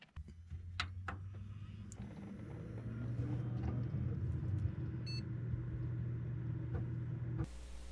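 An upgraded desktop computer powers on: a low hum swells into a steady whirring rumble as fans spin up, with a short electronic beep partway through and a sudden shift in the noise near the end.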